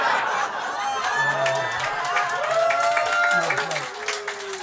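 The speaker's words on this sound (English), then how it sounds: "Big round of applause." Audience at a live show breaks into applause, steady clapping and cheering from a crowd with a few whoops, while people talk over it.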